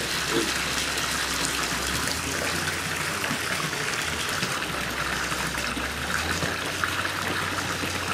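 Water pours from above into a fish farming tank in a continuous rushing gush, loud and close, with a low steady hum of equipment underneath.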